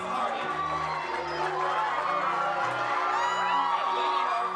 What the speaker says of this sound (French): C'est la tête haute que les cadets défilent sous les acclamations de leurs proches